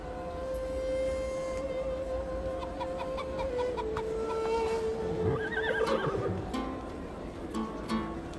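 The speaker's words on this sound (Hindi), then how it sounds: "वो मेरा अरबी घोड़ा दौड़ के लिए इंतजार कर रहा है।" An Arabian horse waiting to race neighs with a drawn-out whinny over a steady outdoor background, and a few clucking fowl sound faintly nearby.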